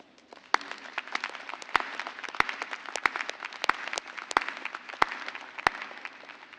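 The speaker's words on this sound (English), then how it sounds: "I think that deserves a round of applause." An audience at a university veterans center graduate convocation applauds in a loose, fairly light wash of clapping, with a few sharp, close individual claps standing out above the crowd.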